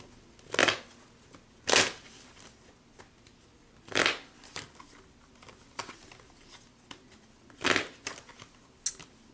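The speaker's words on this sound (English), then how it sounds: "the cards keep trying to fall out" Tarot cards are shuffled in short, crisp riffling bursts, about five separate flurries spaced a second or two apart, close and clear against a quiet room.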